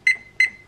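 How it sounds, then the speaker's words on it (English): A kitchen timer being set while cleaning a Keurig Mini coffee maker gives two short, bright electronic beeps about a third of a second apart, clear and close. "Set my timer for 30 minutes."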